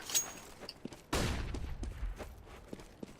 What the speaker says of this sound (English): just have to throw some more flashes like this one